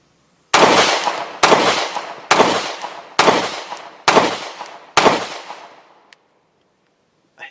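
Six sharp, loud shots from an FN Reflex micro-compact 9mm pistol ring out at close range in an even rhythm, each with a short echoing decay, followed by quiet and a faint click.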